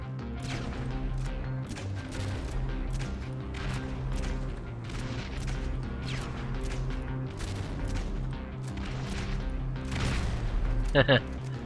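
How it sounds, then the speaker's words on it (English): Gunfire and explosions in GTA Online, a dense fusillade of rapid shots and booms over steady game music, with a louder burst of shots near the end. "I use a grenade launcher to get him"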